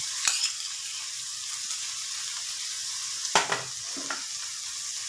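Kanda onion, garlic and masala sizzle and fry in a hot pan for a tomato chutney, a steady hiss broken by a few sharp stirring scrapes and spatters, close up with no talk.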